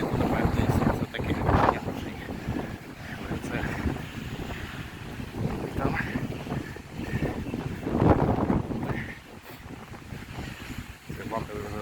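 Strong wind blows in Kyiv by the remains of the old cable-stayed bridge, a loud, continuous roar and buffeting against the microphone that swells and gusts throughout, with no clear talk.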